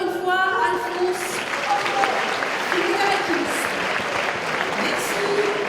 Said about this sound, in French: On l'applaudit encore une fois, Alphonse.